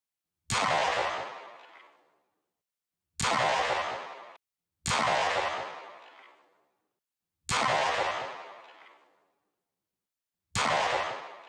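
A Staccato HD C3.6 pistol fires five separate, evenly spaced loud shots, each a sharp crack with a short decaying tail, with silence between them.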